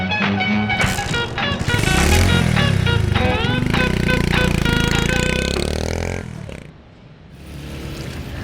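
A motorbike engine runs loudly and revs up and down, with voices over it, then drops away near the end.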